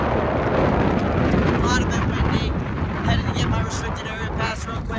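Strong gusty wind buffets the microphone at a drag racing track during the Phoenix Nationals, a constant loud roaring rumble, with someone talking over it.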